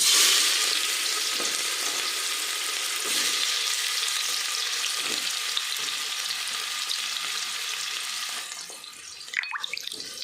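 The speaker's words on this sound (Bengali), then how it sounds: "তেল গরম হয়ে গেছে, এবার দিয়ে দেব পেঁয়াজ কুচি" Chopped onion hits hot oil in a pressure cooker, setting off a loud, steady, hissing sizzle that holds throughout and fades slightly toward the end, with a few utensil scrapes.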